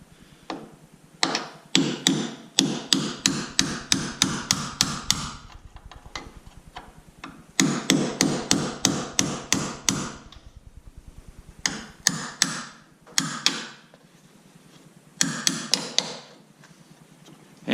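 A chisel is hammered through the metal quarter panel of a Ford Bronco, producing close, sharp metallic strikes in rapid rhythmic runs broken by brief pauses.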